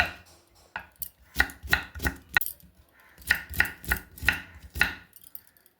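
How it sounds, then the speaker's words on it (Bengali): A knife chops onions on a board in quick bursts of sharp, close thuds, two runs of several strokes separated by a short pause. "তো এইভাবে পেঁয়াজগুলোকে খুব সুন্দর করে আমি কেটে নিচ্ছি।"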